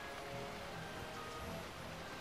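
Steady rain falls in the Final Fantasy XII video game, a dense, even hiss of droplets holding at a constant moderate level throughout, with no talk.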